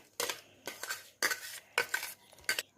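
A spoon stirring cake batter of wheat flour, jaggery and eggs in a bowl, five distinct scraping, clinking strokes in an even rhythm, close and clear with quiet pauses between them.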